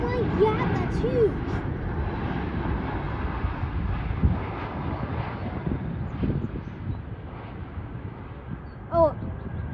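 A Boeing 787 Dreamliner takes off with a sustained low jet engine roar, loud and continuous, roughened by wind gusts on the microphone, while people talk faintly nearby.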